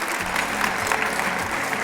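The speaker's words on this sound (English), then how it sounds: "Let's give these models a round of applause." At a cultural closing celebration, an audience applauds the models with a steady, fairly close wash of many hands clapping, with no talk over it.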